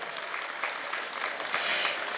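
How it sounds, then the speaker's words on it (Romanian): Audience applause for the mayor of Moinești at a cultural event, steady dense clapping from a crowd filling the whole stretch without pause. "Aplauze pentru domnul primar și UAT Moinești!"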